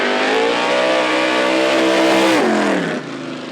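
A yellow Chevrolet Camaro drag racing car on a bye run at Knoxville Dragway: a loud sustained engine roar that holds high, then drops in pitch as the driver lifts off near the end.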